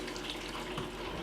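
Water being poured out of a film developing tank, a short, close, steady splashing gush.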